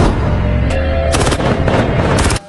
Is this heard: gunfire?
yes